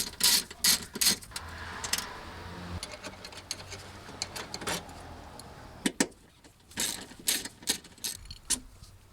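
Removing small 10mm bolts from the wiper motor and mechanism of a 2013 Toyota Prius V: quick metallic clicks and rattling tool ratchets come in irregular bursts, close by, with quiet gaps between.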